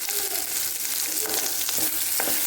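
Cumin seeds frying in a hot pan, a close, steady sizzle with soft crackles and occasional stirring scrapes.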